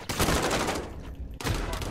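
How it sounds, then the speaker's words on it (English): Rapid gunfire in a sniper-and-knife Search and Destroy match of a video game shooter, a loud burst of overlapping shots that breaks off briefly and then resumes. "Why are you shooting at me?"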